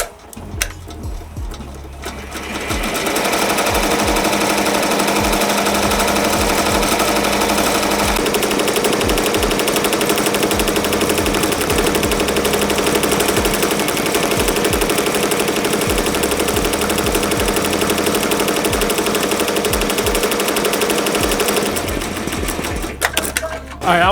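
A Ricoma embroidery machine stitches a hat in navy blue thread, a loud, fast, steady mechanical chatter that starts up after a brief quiet moment, runs continuously for about twenty seconds, then stops.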